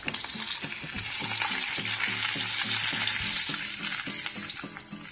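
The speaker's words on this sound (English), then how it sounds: "we want to make sure that the underside is cooked and browned before we start flipping it over" A beef patty for Salisbury steak frying in a pan, giving a continuous bright sizzle with rhythmic stirring or scraping taps underneath, close and steady with no talking.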